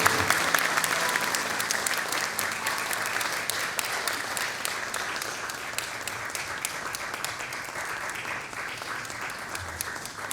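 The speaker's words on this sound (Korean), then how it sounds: "우리 큰 박수로 한번 격려하도록 하겠습니다" A congregation gives a big round of applause at a university president's inauguration thanksgiving service, sustained even clapping from a large crowd that holds steady for about ten seconds.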